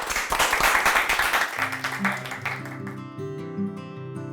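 A studio audience on a television programme claps in a short burst that fades after a second or so, giving way to background music.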